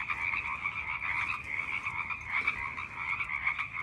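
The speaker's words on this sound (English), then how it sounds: "Listen to those frogs." Frogs croaking at night, a dense chorus of steady trilling calls that carries on without pause, moderately loud and close, with no voices.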